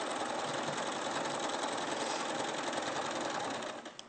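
A sewing machine stitches steadily through several thick fabric layers, giving a close, continuous whirring buzz at an even pace that slows and cuts off just before the end.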